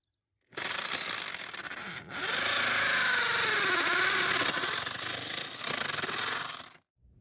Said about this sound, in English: So that's where we're going to drill. But we're going to go into the mortar part of it.